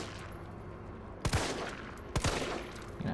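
Two sharp gunshot bursts ring out in Resident Evil 3, each a loud crack with a short ringing tail, about a second apart, over a low steady game ambience.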